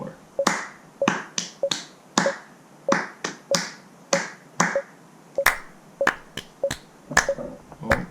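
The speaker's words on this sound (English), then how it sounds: "I'm just going to be clapping, and then snapping on 2" Crisp finger snaps repeat in a looped improvised rhythm, about a dozen sharp clicks spaced irregularly over several seconds, close and clear with no other sound behind them.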